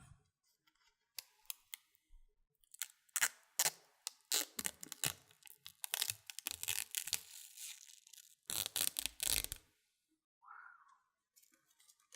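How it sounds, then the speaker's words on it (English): Thin protective plastic film being peeled off the slick feet of a Razer Mamba Tournament Edition mouse, heard as quiet close crinkling, tearing and clicking in bursts, with short pauses between. "So there's a plastic film over it. I will peel off."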